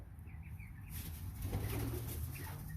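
Soft calls and cooing from American Bresse chickens in brooders close by, with a fluttering rustle, fairly quiet and brief.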